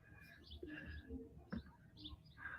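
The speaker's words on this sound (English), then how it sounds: "Thankfully, the birds are louder than the restaurant" Birds chirping and cooing outdoors in Carson, California, with several short tweets and pigeon-like coos scattered over a low background hum, with faint restaurant music nearby.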